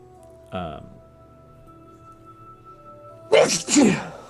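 Two sneezes break out during a tabletop role-playing game session: a short one near the start, then a louder, doubled sneeze near the end, with quiet room tone between them.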